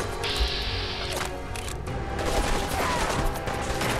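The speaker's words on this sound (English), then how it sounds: "Oh my god, he is shooting hard." Rapid gunfire in the Fallout 4 video game, a dense, continuous burst of shots and mechanical clatter sustained throughout without talk.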